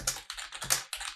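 Rapid bursts of keystrokes on a computer keyboard, typed close by in quick clusters with short pauses between them and no talking.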